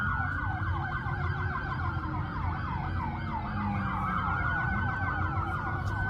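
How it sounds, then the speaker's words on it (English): Several police car sirens from Miami units wail together over steady traffic, with overlapping, rapidly cycling tones that carry on continuously at moderate distance. "Whoa, that is a lot of police cars"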